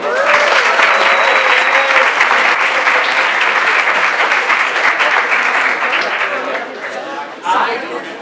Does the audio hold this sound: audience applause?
yes